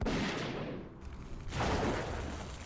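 Gunfire in World of Warcraft, a dense, loud burst of shots that fades briefly and then returns as a second volley, with no voices heard.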